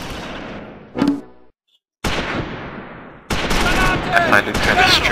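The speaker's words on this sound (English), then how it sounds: "I think it's a German MG that's making the whoopee cushion noise" A German machine gun firing in the Close Combat 5 video game, a harsh rattling burst, a pause, then sustained chattering gunfire amid other battle noise.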